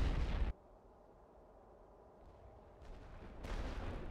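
Artillery barrage in a World War I video game set on the Western Front near Lille: a heavy rumbling burst opens, falls to a low, distant hum, then another broad roar of shellfire swells back in near the end.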